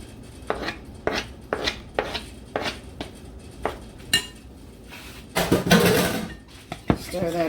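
A spoon scrapes and clinks against a bowl while seasoned stuffing filling for porterhouse pork chops is stirred; irregular close taps with a busier scraping stretch near the end, no talk.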